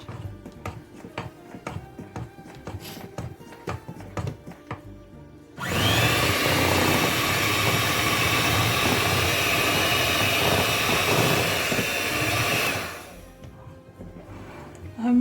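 Electric mixer whirring through cake batter as a tablespoon of cocoa powder is worked in for a marble sponge cake, a steady loud drone lasting about seven seconds that starts and stops abruptly, preceded by faint clinks.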